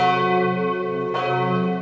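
A cathedral bell in Calapan, Oriental Mindoro, rings loud and close at 5 a.m. before Mass, one sustained tone decaying before a second strike renews it.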